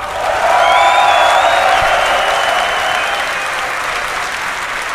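A large crowd at a DreamHack esports final applauds and cheers, a loud, sustained wash of clapping with whistles and whoops over it, easing off slightly toward the end.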